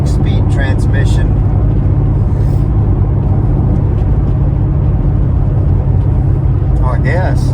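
A 2007 Ford Mustang with a newly installed engine runs while driving, a loud, steady low rumble from inside the car, with people talking over it at the start and end.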